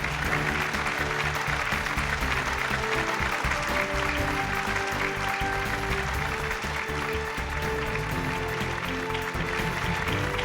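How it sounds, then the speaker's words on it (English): An audience at a renewable energy awards ceremony in India applauds a winning group, sustained even clapping with music or a tonal backing underneath, holding steady throughout. "Huge round of applause for the Pashim Group, please"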